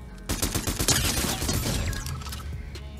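Gunfire in a Fortnite match, a rapid cluster of loud cracking shots and sharp impacts in the first half that thins out into scattered fainter reports.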